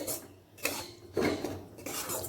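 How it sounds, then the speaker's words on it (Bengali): Lemon being stirred into sattu (roasted gram flour) in a bowl gives a few soft scraping and clinking bursts of a utensil against the bowl, close by and fairly quiet. "লেবুটাও মিশিয়ে নিলাম ছাতুর সাথে"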